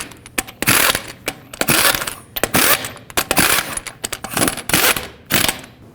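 Impact wrench or torque wrench tightening six lug nuts in a cross pattern on a 2015-2020 GMC Yukon front wheel: a run of loud metallic clicks and rattling bursts, close and repeated in uneven clusters with no talking.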